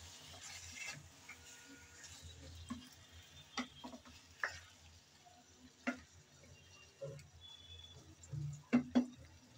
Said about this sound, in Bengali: এখন নেড়ে চেড়ে ভালো করে একটু তেলের মধ্যে ভেজে নেব।